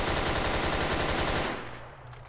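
Rapid automatic gunfire in the video game Arma 3, a loud, close, evenly spaced burst of shots lasting over a second before cutting off into a fading echo.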